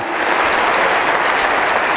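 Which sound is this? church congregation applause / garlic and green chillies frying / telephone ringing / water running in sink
church congregation applause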